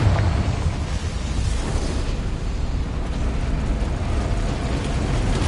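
A Confringo fire spell bursts in Hogwarts Legacy, a loud, continuous rumbling blast with dense low-end roar that holds steady for several seconds without pause.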